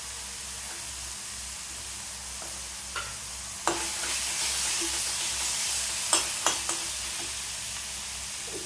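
Onion, tomato and ginger sizzle and fry in a pan with a steady, quiet hiss, broken by a few sharp clinks and scrapes of stirring, and no one speaks.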